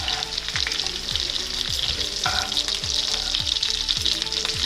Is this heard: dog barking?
no